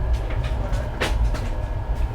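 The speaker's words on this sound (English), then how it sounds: "This is the train which we booked from Hubli Junction to Bangalore." Low rumble of an Indian Railway train travelling between Hubli Junction and Bangalore, a steady droning roll with a brief rattling swell midway, heard from inside the carriage without talk.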